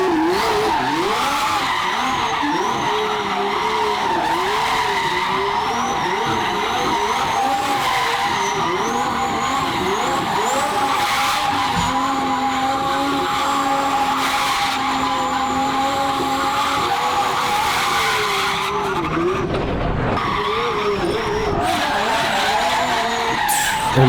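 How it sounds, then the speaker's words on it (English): Car drifting at a steep angle with sustained tire squeal and skidding, continuous and loud throughout, with the drone of a screaming engine underneath; a twin-turbo Ferrari V12 is mentioned nearby. "look how much angle that car has too. Just sliding effortlessly."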